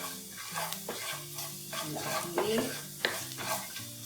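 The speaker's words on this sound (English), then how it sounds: "Saute both of them together." Finely minced garlic and chili flakes sauté in a pan for chicken meatballs in cream sauce, giving a close, even sizzle stirred with soft scrapes and a clink, while a voice speaks once briefly.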